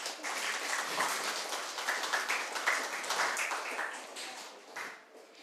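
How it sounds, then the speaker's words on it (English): An audience at a national school reading competition applauds a contestant, dense steady clapping from a crowd that holds for about five seconds before briefly dipping near the end. "A round of applause for Miss Paula Dura."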